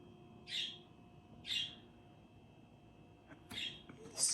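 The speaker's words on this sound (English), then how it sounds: "my birds are chirping" Pet birds chirping indoors, about four short bright calls, fairly quiet, set apart by pauses over a low background hum.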